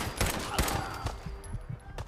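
Rapid gunfire in the video game Fallout 4, several sharp shots in quick succession at close range, with a voice talking over them.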